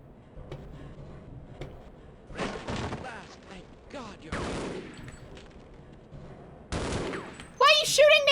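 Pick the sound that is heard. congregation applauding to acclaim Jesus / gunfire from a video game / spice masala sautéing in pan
gunfire from a video game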